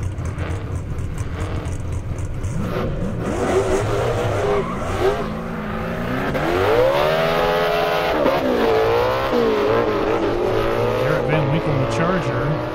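Naturally aspirated Dodge Charger race car at an airstrip drag racing event, engine rising and falling through loud revs with squealing tires, sustained over many seconds beneath an announcer talking.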